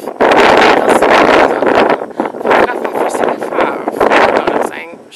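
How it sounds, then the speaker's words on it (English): Strong wind buffets the microphone at a high scenic overlook in Luxembourg, with loud, gusty rumbling that rises and falls. A person talks over it the whole time. "It is unfortunately windier than I was expecting."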